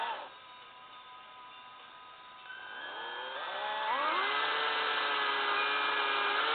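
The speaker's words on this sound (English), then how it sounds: "you push down with the drill bit a little bit" A quiet electric drill hum builds and rises in pitch as it spins up, drilling a pilot hole in a wooden dowel, growing steadily louder toward the end.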